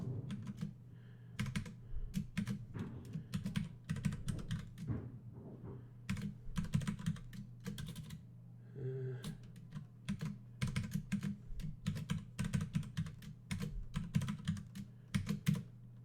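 Steady typing on a computer keyboard while live-coding a React Native app, close-up key clicks in quick irregular bursts with short pauses, over a low background hum and no talk.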